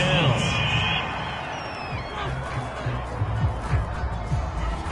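Home crowd in the Madden 22 football video game cheers and roars after a penalty call on third down, a loud sustained wash of crowd noise with whoops rising over a low murmur, mixed with commentary speech throughout.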